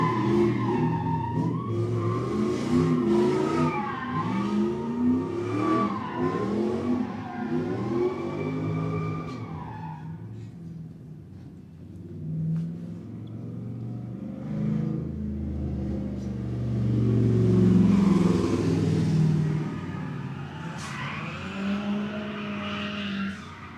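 A drifting car fitted with a rear wing, at a live event in Mexico, revs hard with rising and falling engine pitch while its tires skid and squeal. Loud and close, it comes in repeated bursts.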